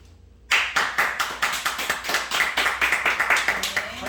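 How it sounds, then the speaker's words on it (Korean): A church congregation applauds after a newly ordained minister's first sermon, a sudden burst of steady clapping from many hands that continues evenly throughout. "첫 설교에 박수를 받았다"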